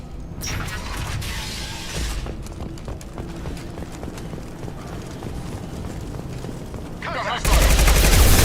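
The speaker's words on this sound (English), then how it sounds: "Blue Suns and Vorcha shooting anything that moves" Gunfire in the video game Mass Effect 2 rattles in dense, rapid bursts of shots mixed with mechanical clatter, fairly loud throughout and swelling into a louder roar at the end.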